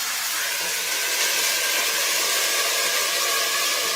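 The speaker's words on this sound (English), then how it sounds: "that's going to add some steam in there" Loud, steady hiss of steam rising as melted ice-cube water hits a hot oven where bread is baking, continuous and close with no talking.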